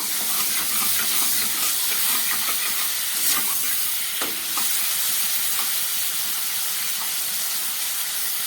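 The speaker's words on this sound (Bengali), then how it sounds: "চিংড়ি মাছগুলো আমার ভাজা হয়ে গেছে" Shell-on prawns frying in hot oil, a steady dense sizzle and hiss with faint stirring clicks throughout, close and continuous with no talking.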